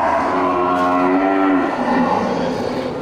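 Cattle at a livestock market, with bulls among them: one loud, drawn-out moo close at hand that bends down in pitch and trails off, then a quieter stretch of market background.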